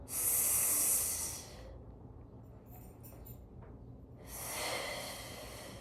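Long exhale during a Pilates core exercise, a strong close breath lasting over a second, then a quieter stretch, then another audible breath out, with no talk during the clip.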